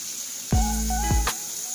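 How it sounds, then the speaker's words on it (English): A hand is rinsed under a running tap while seasoning sausage for a sandwich, with a short burst of splashing water that starts abruptly and stops after under a second, close by. "Rinse your hand off."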